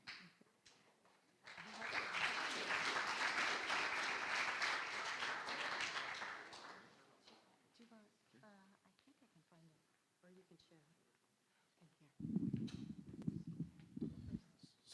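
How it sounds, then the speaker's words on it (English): Audience at a high school competition bursts into sustained applause and cheering, loud and dense for several seconds before fading, followed by a person talking and then a short burst of noise. "Really, another round of applause for that."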